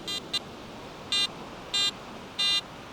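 Garrett AT Max metal detector on a Florida beach sounding its pinpointing tone: three short bright electronic beeps spaced evenly after a brief double chirp, loud and clear above faint surf-like background hiss.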